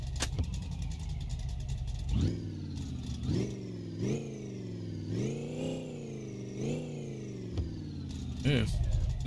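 A car engine in the My Garage video game cranks, catches and starts, then revs up and down in a steady series of rising and falling sweeps, loud and close, with a sharp extra rev near the end.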